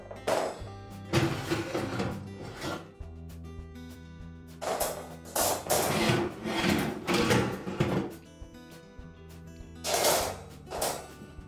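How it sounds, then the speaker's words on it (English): Metal racks being pulled out of a Frigidaire range oven, with several bursts of scraping and sliding clatter separated by short pauses, close and fairly loud. "So we'll open the range up, remove all of the racks."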